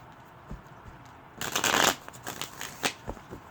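Tarot cards are shuffled close by in a quiet room, starting with a few soft taps and then a dense riffling burst followed by scattered flicks, with no talk.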